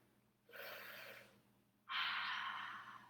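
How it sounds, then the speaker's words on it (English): A deep breath drawn in and then released during a resting pose in a children's superhero-themed yoga class, two long airy breath sounds close to the microphone with no talking. "Take a big breath in"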